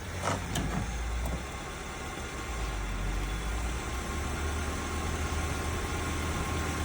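A jump-started car engine runs steadily with a low, even rumble while the car moves forward in gear, a couple of faint clicks near the start.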